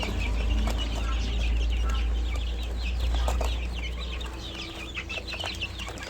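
Young chicks clucking and peeping while they feed outdoors on their morning meal, a busy chorus of short, bright chirps close by over a low rumble of background noise.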